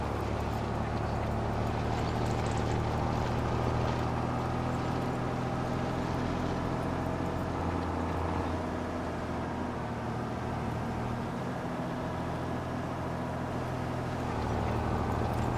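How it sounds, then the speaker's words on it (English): A tractor engine drones steadily throughout while it drives and turns in a small farm field during field preparation, a loud continuous low rumble with no talk. "Tractor doesn't turn that fast."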